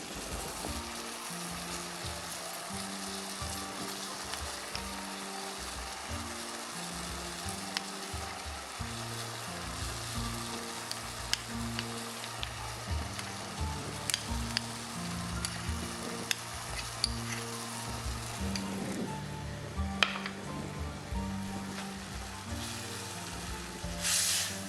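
Papaya with lime juice cooking in a pan, a soft, steady sizzle and gentle bubbling that goes on without pause, a few faint clicks and stirring sounds over it.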